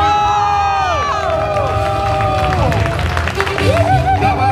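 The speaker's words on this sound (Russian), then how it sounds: "поаплодируем!" A crowd at a CrossFit team event cheers, whoops and claps for a second-place team, with loud voices and applause filling the space and excited shouting throughout.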